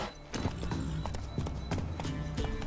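Roach, a horse in The Witcher 3, trotting with quick rhythmic clip-clop hoofbeats, close and clear, over faint ambient game sound with soft speech.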